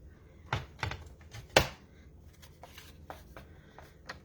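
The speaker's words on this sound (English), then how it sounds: "So we're going to cut this with our paper trimmer." A paper trimmer slicing through cardstock for handmade paper tags, a few sharp, close clicks and scraping strokes spread irregularly over several seconds, fairly quiet, with no voices.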